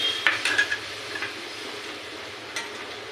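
Ground sour yogurt poured into sizzling, oil-separated masala for doi katla, a steady soft sizzle with a few brief stirring clinks and splashes near the start, no voices.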